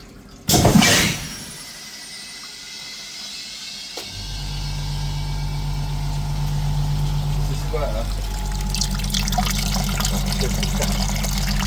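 A Carbon Clean DCS 16 machine switches on and flushes cleaning liquid through the DPF of a Ford Transit Custom 2.2 in a workshop: a loud initial splash, then a steady pumping rush of liquid that continues throughout.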